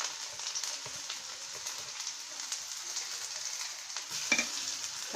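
Garlic hits hot oil in a kadhai and sizzles steadily, a soft, crackling hiss with faint pops and occasional stirring scrapes, close by with no talk.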